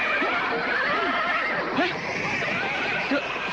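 A horse neighs repeatedly in an Indonesian radio drama about a cavalry troop, loud, shrill whinnies rising and falling over a dense, busy background of other horses and commotion.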